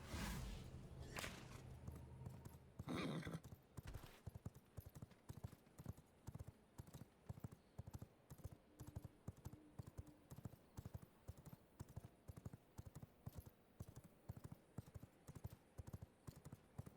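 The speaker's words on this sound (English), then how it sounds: "Return to me, my steed." Hooves of a summoned horse clip-clop in V Rising as the steed arrives, a steady trotting beat of light, evenly spaced clops after an opening whoosh, with faint game sounds underneath.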